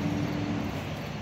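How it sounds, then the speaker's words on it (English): Trucks and cars pass on Forest Grove Road, a busy road, giving a steady low rumble of engines and tyres that stays fairly constant throughout. "Pardon the noise from all these trucks."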